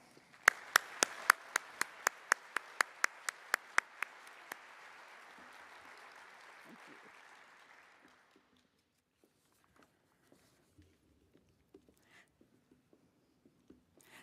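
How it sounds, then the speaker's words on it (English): At an honors and awards ceremony, an audience gives award recipients a round of applause, a steady wash of clapping with loud nearby claps standing out, fading out after about eight seconds into quiet room sounds and faint scattered taps. "I'd like to ask all of our recipients to stand for another round of applause."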